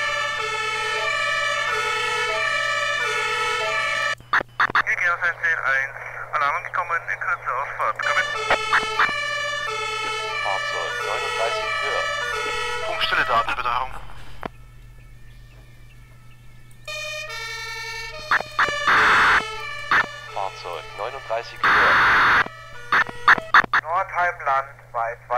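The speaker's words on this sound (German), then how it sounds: "Gerade die Sirenenalarmierung, wie wenn ich jetzt in meinem Ort bin und im Nachbarort geht die Sirene" A siren alarm in the emergency-services game Emergency 4 wails in repeating electronic tonal cycles, broken by short pauses and bursts of beeping, loud and continuous.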